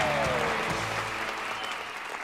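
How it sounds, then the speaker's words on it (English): A short burst of applause for Patrick Hennessy, the clapping fading gradually over a couple of seconds beneath a faint tonal hum. "Let's get a round of applause for Mr."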